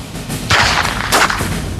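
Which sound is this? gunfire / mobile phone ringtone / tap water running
gunfire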